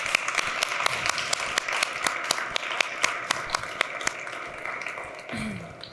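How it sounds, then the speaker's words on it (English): Conference audience applauding at the close of a green-themed studio day, a steady patter of separate claps from a modest crowd over a quiet room hum, with no voices. "So please give a big round of applause to everyone who made this possible today."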